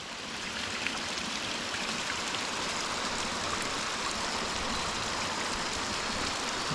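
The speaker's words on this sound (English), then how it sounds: "a little runoff coming down to the river" A small runoff stream flows down into a river beside a White Mountains hiking trail near Mount Garfield and Galehead, giving a steady, close, unbroken rush and trickle of water with no voices.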